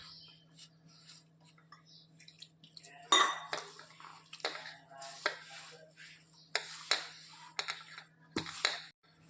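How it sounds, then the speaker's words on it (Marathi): Flour for palak paratha being mixed and kneaded in a metal bowl, with scattered close clinks and scrapes of utensil against the bowl and soft rustling between them, along with faint low talk. "आणि त्याला छान मिक्स करून घेऊ। पिठाला छान मळून घेऊ।"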